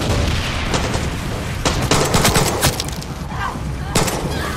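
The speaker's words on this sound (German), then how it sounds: "Bombe, Bombe, Bombe!" Gunfire and explosions crackle through a firefight in Far Cry 6, with repeated sharp shots and bursts over a dense, loud background of battle noise.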